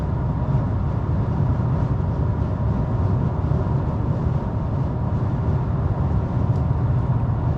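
Low, steady drone of a 2024 Toyota Tacoma TRD Off-Road engine lugging at low revs on the highway, a continuous rumble blended with road and wind noise, no talking.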